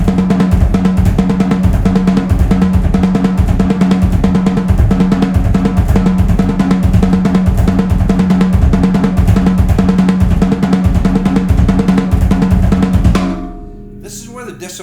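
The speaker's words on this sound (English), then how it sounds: "I'm going to play it in linear 16th notes between the hands and the feet with double kick" Syncopated linear 16th-note drum pattern split between hands and double kick, a dense steady loud groove of kick and snare hits that stops abruptly near the end, leaving a ringing tail.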